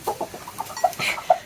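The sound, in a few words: chickens clucking in cold weather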